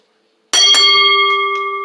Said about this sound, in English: All right, here goes the bell.